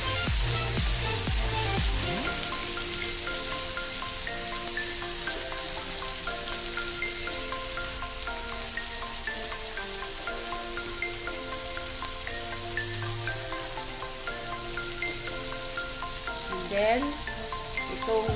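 Cabbage and carrots sizzle in a frying pan with a steady, dense crackle, mixed with a hiss and occasional clinks and scrapes of a utensil stirring, all while music plays quietly beneath.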